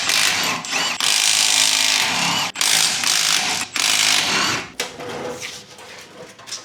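A power tool zips the wheels off a 1990 Mazda Miata project car, with loud, harsh whirring bursts broken by short pauses, close by and alone.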